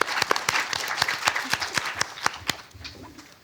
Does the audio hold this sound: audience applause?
yes